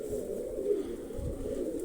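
Pigeons coo softly in a low, murmuring rhythm close by.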